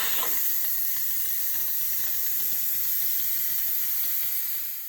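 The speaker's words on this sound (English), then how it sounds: "you can actually do it by pushing the quick release button here on top" A quick cooker's pressure-release valve vents steam in a loud, continuous hiss. It runs unbroken for several seconds, is close and dominant, and eases off slightly at the end with no voices.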